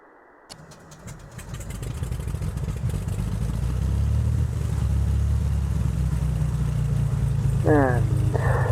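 A simulated Carenado Baron piston engine in Prepar3D cranks and catches, then settles into a steady, rumbling idle that grows louder and holds, with a brief electronic chirp near the end.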